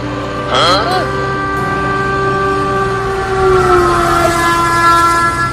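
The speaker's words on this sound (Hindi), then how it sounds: "अरे मम्मी, ये टेम्पो तो ट्रेन की लाइन पर ही चलने लगा और आगे से ट्रेन भी आ रही है।" A cartoon train approaches along a railway line, its loud sustained horn blaring over a steady rolling rumble.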